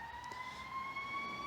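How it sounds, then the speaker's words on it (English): A fire engine siren holds a steady, sustained tone off in the background, faint and distant over a low hum, and no one speaks over it. "Oh, I bet you can hear the fire engine going in the background."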